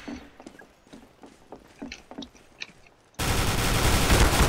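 Rapid bursts of gunfire from the video game CS:GO in Arms Race mode, a string of sharp shots followed by a loud, dense stretch of continuous noise; no talk.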